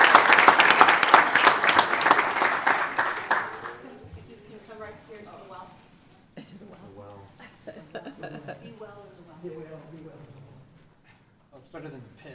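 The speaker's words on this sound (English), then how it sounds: "Let's have a round of applause for them." A room of people claps in a burst of sustained applause at a city council meeting, loud for about four seconds, then dies away to scattered voices talking.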